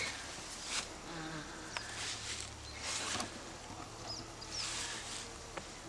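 Faint, low buzzing of a honeybee swarm outdoors, a soft continuous hum with scattered light clicks and rustles, fairly distant and quiet.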